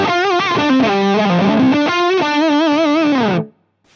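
Distorted electric guitar through a Mesa Stiletto Deuce amp on a spongy setting, playing a sustained, bending lead phrase of about three and a half seconds, loud and alone before cutting off abruptly.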